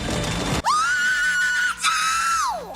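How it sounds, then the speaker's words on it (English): A film scream sound effect, the recognisable James Brown sample: a loud, sustained high-pitched yell that holds steady, breaks briefly, then resumes and trails off, standing alone after a noisy opening. "did the sound effects guys really think we wouldn't notice that scream?"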